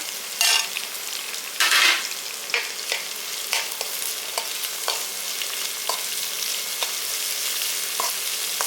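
Beans, carrots and green chillies sautéing in oil, a close steady sizzle with a few louder bursts near the start and light rhythmic stirring clicks throughout.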